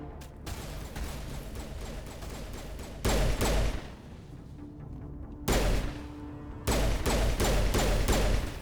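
Bursts of rapid gunfire from a shooter game set in Mass Effect Legendary Edition, loud and close, coming in several separate volleys over a steady background din with no talking.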